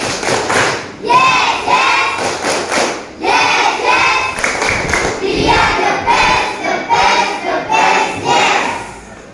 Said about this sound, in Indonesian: Yo, mari kita tepuk semangat.